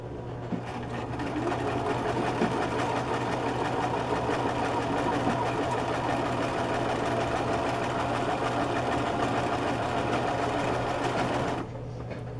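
A sewing machine stitches pinned fabric for a scrunchie, a continuous fast mechanical whirr with a steady hum, running evenly for about eleven seconds before stopping abruptly.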